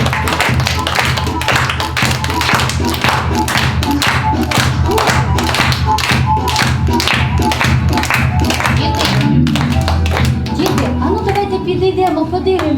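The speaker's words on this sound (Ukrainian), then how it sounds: "Плескаємо долоньки." Children clap their hands in steady, rhythmic unison during a kindergarten lesson, sharp close claps at an even pace for most of the stretch, then a softer, looser patter near the end.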